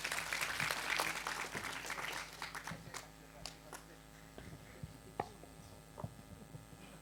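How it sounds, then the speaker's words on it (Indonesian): An audience at a Sinau Bareng gathering with KiaiKanjeng claps loudly in a dense burst that thins into scattered claps over a faint mains hum. "Tepuk tangan semua untuk Pak Gunawan ya."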